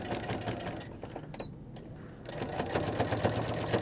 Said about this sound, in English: Going to back stitch a little bit for the top part.